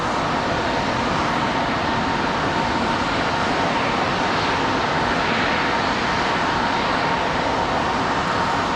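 Republic Airways airliner on arrival from Chicago O'Hare at Raleigh-Durham International, its engines producing a loud, constant broadband roar that holds steady across the whole stretch.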